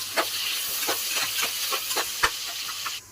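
Chopped onions sizzle in about four tablespoons of hot oil with cinnamon, cloves and cardamom for ghee rice, a steady close hiss broken by small crackles that cuts off just before the end.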